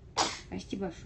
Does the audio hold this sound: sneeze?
yes